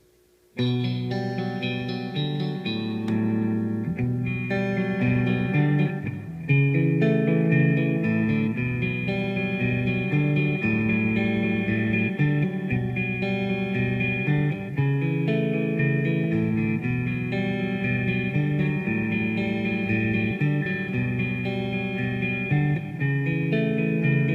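Electric guitar chords played through a Digitech iPB-10 pedal board ring out steadily with a delay effect, each note echoing and repeating behind itself, loud and continuous with no talking.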